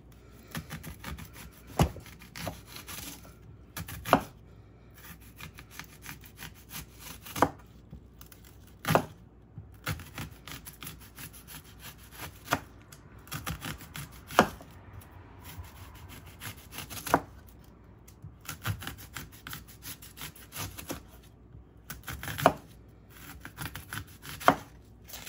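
A knife chops red onion on a cutting board, isolated quiet thuds and slices spaced several seconds apart with soft rustling between, close and fairly faint.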